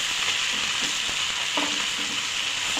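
Chicken pieces sizzle steadily in hot oil in a pan while being stirred, with soft scraping and clinks now and then over the constant frying hiss, heard close up with no talk.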